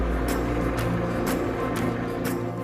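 Tractor giving a chauffeur-driven tour of a Welsh country estate, a close, steady low engine rumble with faint regular clicks and rattles recurring about every half second.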